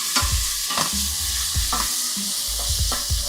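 Japanese curry sizzles in a frying pan while a spoon stirs it in repeated scraping strokes, each stir bringing a soft thud and clatter over the steady frying hiss; no one talks.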